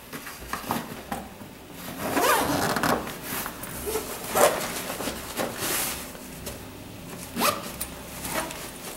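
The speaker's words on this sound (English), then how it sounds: "And then we need to zip that inner cloth flap." The inner cloth flap zipper on a chair pad set is pulled closed in several quick rasping runs at close range. The strokes are separated by short pauses and soft fabric rustling.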